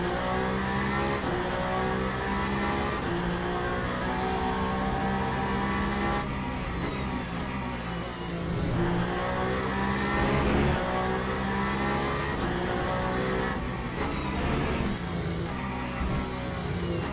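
Race car engine in the Le Mans Ultimate racing game during an Imola endurance race, revving loudly and continuously with rising and falling pitch through gear changes, close and steady, with no talk over it.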